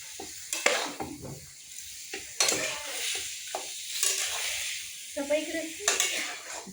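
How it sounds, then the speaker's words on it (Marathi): Mutton is stirred and sautéed in masala in a pan, with scraping and clinking of a spoon against metal over a soft sizzle, in intermittent strokes close by. "असा खालीवर करू जरा मसाल्यामध्ये परतून घेऊ"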